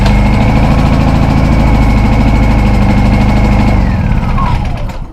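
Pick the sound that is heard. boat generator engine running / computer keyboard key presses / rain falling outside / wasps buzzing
boat generator engine running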